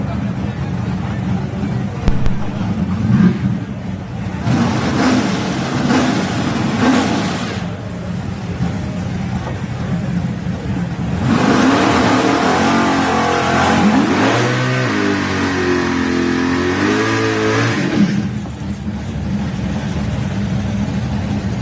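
Drag race cars in an all-wheel drive versus DCT class final at a live drag racing event, engines revving and accelerating loudly, with a big surge of roaring, rising engine notes midway, under crowd and announcer noise.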